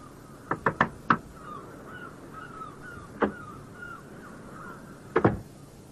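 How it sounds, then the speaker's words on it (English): Knuckles rap on a wooden inn door in a loose pattern: a quick cluster of four knocks, one lone knock, then two more. Faint bird calls drift in the background. "He knocked on the door and my father let him in."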